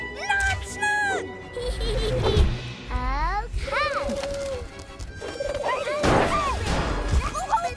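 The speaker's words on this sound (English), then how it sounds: "He broke out of his baby carrier." Cartoon Hulk, turned into a baby, smashes out of a baby carrier with loud crashes and whacks among chirpy cartoon sound effects, while excited voices shout and talk throughout.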